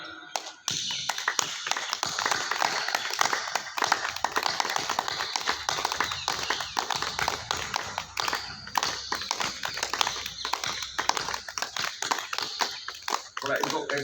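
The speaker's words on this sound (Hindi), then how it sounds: "जोर से बजाना है ताली।" Yoga camp participants clap their hands loudly in a fast, steady rhythm of sharp claps, continuing throughout with background voices mixed in.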